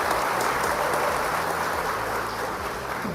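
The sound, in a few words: audience applause at a Chamber of Commerce meeting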